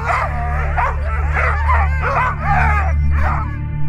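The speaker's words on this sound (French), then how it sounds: "ça jappe, ça hurle." Sled dogs at a race start line bark, yip and whine in rapid overlapping bursts, close and loud over a steady low engine-like hum.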